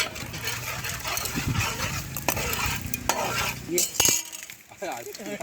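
Fish pieces are stirred with salt, pepper and turmeric in a pot, giving scraping, clinking strokes of a utensil against metal, close and fairly loud, with a faint sizzle underneath.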